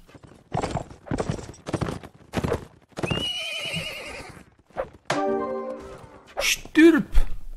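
A horse in the Mount & Blade Warband video game, with a series of separate hoof thuds followed by loud, shrill neighs and whinnies that stand out clearly, and a voice in between.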